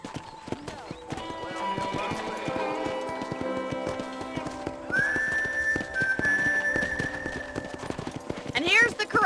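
Horses clip-clop at a ranch corral in Red Dead Redemption, with steady hoofbeats over a soft background tone, a whistle-like note partway through and a neigh near the end, while people talk.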